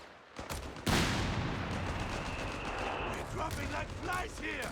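Machine gun fire rattles in Company of Heroes 3 amid a battlefield din, with an abrupt loud burst of sustained gunfire and explosions while someone talks over it.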